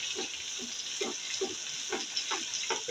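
Chapli kabab batter frying in oil in a small pan, giving a steady broad sizzle with soft repeated stirring or spatula scrapes at a regular pace, close and moderately loud, with no talking.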